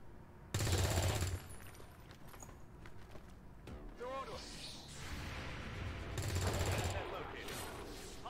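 Gunfire in the sci-fi strategy game XCOM 2 aimed at an ADVENT officer, two sharp loud bursts a few seconds apart over a low game soundtrack, with a voice talking quietly between them.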